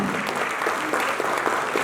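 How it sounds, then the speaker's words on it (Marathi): An audience at a Makar Sankranti cultural celebration claps in a dense, continuous burst of applause for a performer. Close and even for the whole clip. "एकदा टाळ्या"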